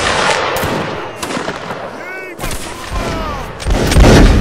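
Musket volleys crack out in Mount & Blade: Napoleonic Wars, sharp overlapping shots bursting across a noisy battlefield, with voices mixed into the din.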